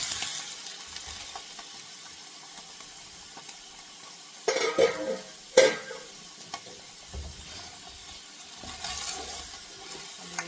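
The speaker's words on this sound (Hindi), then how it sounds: "अब हम चिकन को as you can see chicken को फ्राई करने के लिए छोड़ देंगे घी के अंदर।" Chicken fries in ghee for a Lucknowi dum biryani, a quiet, steady sizzle broken midway by a couple of clanks and stirring scrapes against the pot.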